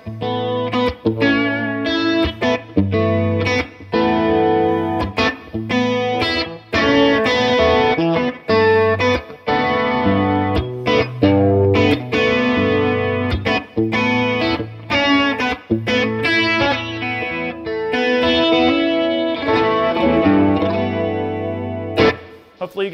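An electric guitar through a Boss Waza Craft CE-2w chorus pedal, played continuously with strummed chords and picked notes, shimmering and wide, loud and steady with no talking.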